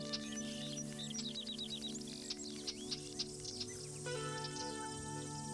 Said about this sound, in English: Migrating birds return, roving inhabitants of the global forest.